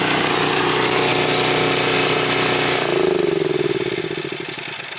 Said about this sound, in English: let me go turn off the generator. We're just wasting propane.